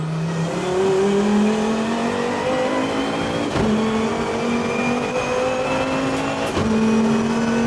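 500 hp 2.5-litre turbo Volvo race car on a lap at Bathurst, heard from inside as the engine climbs through the revs in repeated pulls with brief dips at gear changes, loud and continuous.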